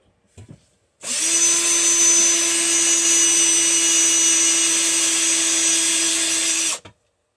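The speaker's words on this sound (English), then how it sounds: "Now we're just going to hit those with a drill" A power drill drilling into metal of an automotive HVAC blower motor whirs nonstop for about six seconds, a steady high-pitched whine that starts and stops abruptly, close up, with no talking.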